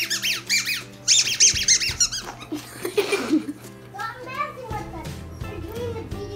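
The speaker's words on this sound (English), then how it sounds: "this ball right here is also a squeak toy." A spiky rubber dog toy ball squeaked repeatedly in a home, sharp high squeals in quick bursts up close, with children talking and making noises around it.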